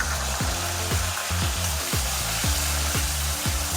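Green chillies, curry leaves and chopped ginger fry in hot oil with a dense, constant sizzling hiss, overlaid by a low hum that dips in a regular, repeating pattern.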